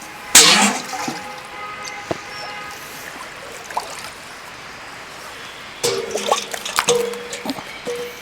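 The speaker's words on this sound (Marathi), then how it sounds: "आता नदीचं पाणी घेतले" River water scooped up with a kettle that has a cloth tied over it, giving near splashing and pouring bursts at the start and again in the last few seconds, with quiet gaps and a faint drip between.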